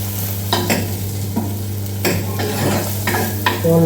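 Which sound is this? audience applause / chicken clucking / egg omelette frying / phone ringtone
egg omelette frying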